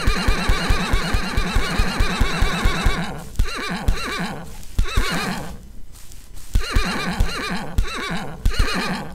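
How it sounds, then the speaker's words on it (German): Mules neigh and whinny repeatedly in the block-building game Mine Clone 2 for Minetest, loud braying calls overlapping over a steady clip-clop rhythm of hooves, with brief lulls between the calls. "Ach nee, Pferde waren es nicht, es waren Mulis."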